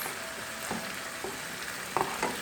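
Lamb chops sizzling in a pan in a teriyaki glaze make a steady, close frying hiss with a few soft pops and bubbling spits, and nobody talks.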